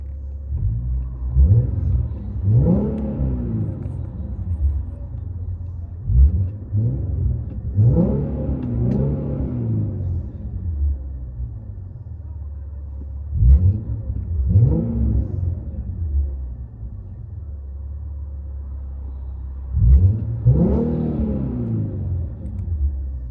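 A 2016 Infiniti Q70 S 3.7L V6 with aftermarket exhaust, heard from inside the cabin, revs up repeatedly, four or five swelling surges over a low steady rumble, no talking.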